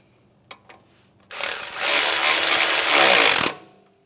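A power tool drives home a 10mm bolt on a strut assembly of a 2007-2013 Acura MDX, giving a couple of faint clicks followed by a loud, buzzing two-second burst that stops abruptly.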